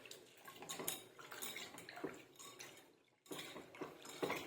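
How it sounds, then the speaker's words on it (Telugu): Lentils being rinsed by hand in a little water in a bowl, with steady splashing, swishing and clinking of the vessel throughout, continuous and close, with a brief pause near the end. "ఇలా కొంచెం వాటర్ వేసి కడుక్కోవాలండి."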